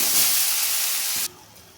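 Ground spice paste going into hot oil in a wok, loud close hissing sizzle that holds steady and then drops abruptly to a quieter simmering hiss.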